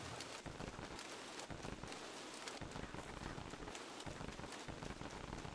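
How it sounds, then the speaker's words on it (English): Steady rainstorm in the game Don't Starve Together, a dense, continuous patter of rain on surfaces running throughout at low level with no talk. "Why do we need a rainstorm on the last day?"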